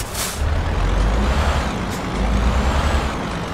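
A heavy truck rolls forward in Euro Truck Simulator 2 with a deep, steady engine rumble and a sharp air-brake hiss at the start, continuous and close, no voices.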